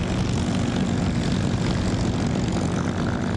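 An old warbird propeller airplane's piston engine drones loud and steady, a dense continuous roar with no pauses or voices.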